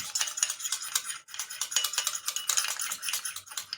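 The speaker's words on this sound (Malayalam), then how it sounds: "നല്ല പോലെ അങ്ങോട്ട് ഇത് മിക്സ് ചെയ്തെടുക്കണം" A kasthuri turmeric face pack mixture being stirred steadily in a small bowl, giving continuous close scraping and clinking rattles without pause.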